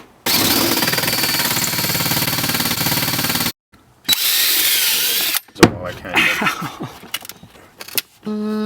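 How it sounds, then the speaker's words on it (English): A power drill bores a series of closely spaced holes during a VW heater installation, with long loud whirring runs broken by short pauses and then choppier bursts and clatter, close up and without speech. "we're just gonna use this technique where you drill a bunch of holes really close together and then break it out"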